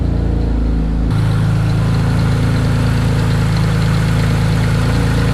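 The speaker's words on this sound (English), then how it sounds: "these pulleys over here are making a little bit of noise" A built twin-turbo Mitsubishi 3000GT engine idles close up with a steady loud drone and a faint whining rattle from noisy pulleys, constant throughout.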